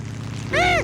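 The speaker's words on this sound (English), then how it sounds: "It's a rescue plane!" In a Curious George cartoon, a steady low engine drone, then a sudden louder harmonic whine with a slightly wavering pitch as a propeller rescue plane passes close overhead.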